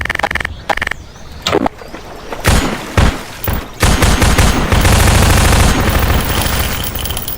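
Grenade thrown in Half-Life 2, a loud sequence of sharp bangs and bursts followed by sustained rumbling, crackling blast noise.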